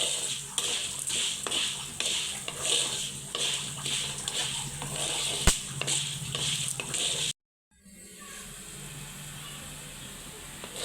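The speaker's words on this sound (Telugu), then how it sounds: "ఇది కొంచెం కలర్ వచ్చే వరకు వేయించుకుందాం" Lentils, coconut and coriander seeds dry-frying in a pan give a steady close sizzle with rhythmic scraping stirs, cut by a brief silence, after which a softer hiss continues.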